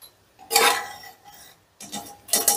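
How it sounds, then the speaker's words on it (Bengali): Metal lid of a pressure cooker being opened after cooking dal: a few light metallic clinks and scrapes in short separate bursts, close and fairly quiet. "এবারে ঢাকনাটা খুলে নিয়ে আমি চেক করে নেব যে ডালটা সেদ্ধ হলো কিনা।"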